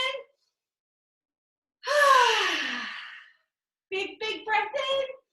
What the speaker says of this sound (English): Now take a big, big breath in.